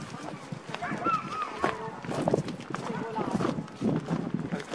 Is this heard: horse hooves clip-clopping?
yes